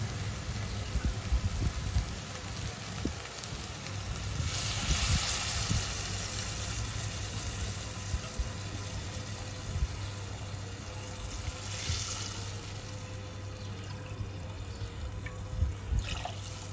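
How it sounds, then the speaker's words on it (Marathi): Coconut milk poured over sautéed rice in a pan for coconut-milk pulao, giving a steady liquid pouring and trickling sound with a bubbling wash throughout, moderately loud and close. "आता आपण यावर कोकोनट मिल्क घालूया।"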